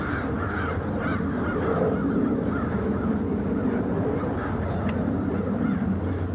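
Crows caw over and over across a steady outdoor wash of noise in Essex, Ontario, several birds calling loudly and continuously at a moderate distance.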